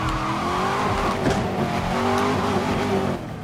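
A car engine in the racing game Need for Speed Most Wanted (2012) hums steadily with a tonal drone and faint tire noise, held at a constant level with no voices.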